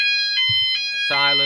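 An E.M.S. FirePoint 5004 fire alarm system sounds its sounder in bursts, loud and close, with steady electronic tones that grow into a dense, sustained blare at the end.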